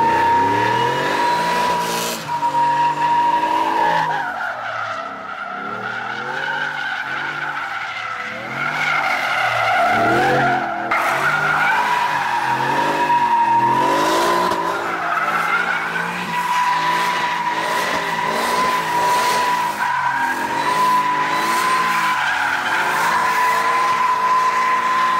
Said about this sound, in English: Go drift it and take it to work.